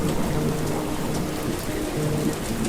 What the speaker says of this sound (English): Rain, little drops of water.